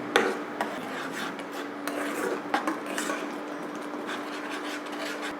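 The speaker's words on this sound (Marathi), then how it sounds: "आता आपण एक पाच ते दहा मिनटं छान असं मिक्स करून घेऊयात" Papaya ghaari dough mixture, spiced with cardamom, nutmeg and dry ginger, is stirred and scraped in a metal pot, producing close, repetitive rasping and clinking strokes with occasional sharper knocks and no talk.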